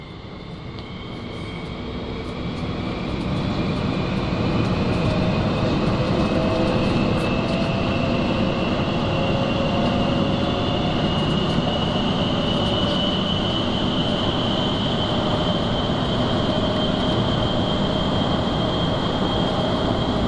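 Interior of a Daegu Metro Line 1 car in motion: a steady, loud rumble of wheels and motor that swells over the first few seconds, with a faint whining tone drifting above the roar, no voices.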